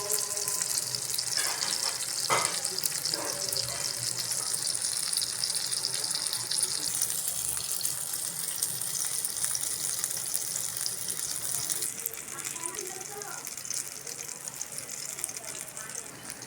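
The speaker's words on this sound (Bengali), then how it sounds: "বেগুন ভাজা হয়ে গেছে এখন নামাই নিলাম" Black eggplant slices frying in oil make a steady, even sizzle that hisses on throughout, easing slightly near the end.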